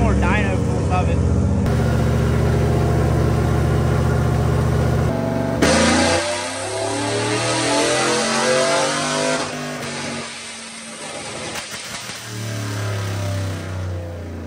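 Turbocharged F-Body Camaro engine roaring on a dyno in a shop, loud and close, with rising and falling revs, sudden cuts and an uneven idle between pulls.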